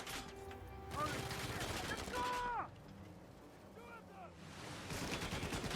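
Gunfire in Uncharted 4: A Thief's End during a speedrun, bursts of shooting mixed with game effects and music, with someone talking over much of it.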